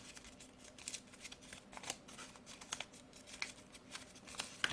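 Scissors snip through paper while a paper robot model is cut out, giving quiet, irregular crisp cuts and rustles close by.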